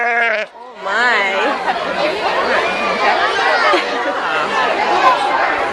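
A farm goat bleats in a wavering, rising cry near the start, followed by steady crowd chatter and children's voices talking over the scene.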